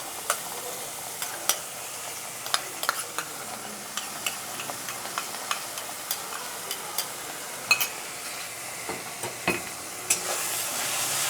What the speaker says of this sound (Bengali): যতক্ষণ এটার কাঁচা গন্ধ না যাচ্ছে ততক্ষণ একটু ভেজে নেবো